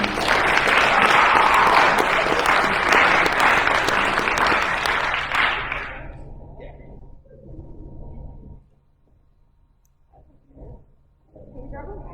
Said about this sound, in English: Give a round of applause for our team.